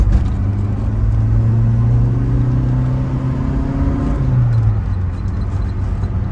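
A 1987 Saab 900 Turbo engine revs loudly while being driven hard, a steady low drone climbing in pitch for about four seconds, then dropping as the gear changes and settling into a lower hum.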